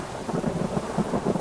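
Rain and thunder in the game Three Fourths Home, with steady rainfall and a low, continuous rumble of thunder rolling underneath, fairly even and moderately loud throughout.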